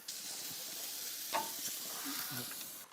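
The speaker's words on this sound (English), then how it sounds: "You want it to hit the hot bars and start to sear and caramelize." Lamb sears on hot barbecue grill bars with a steady, broad sizzle. A brief louder crackle lands midway, and a few faint knocks come near the end.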